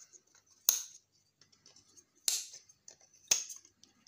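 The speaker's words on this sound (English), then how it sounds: "just get the wire off there, and we just cut there" Wire being snipped off a pile of e-waste scrap: three sharp, close metallic cuts spaced about a second apart, with quiet handling noise between them.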